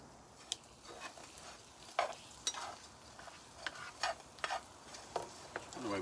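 Hash browns and eggs fry on a GStove wood stove inside a hot tent in a cedar forest, with a steady low sizzle and sharp scraping, clicking spatula strokes scattered throughout. No one speaks.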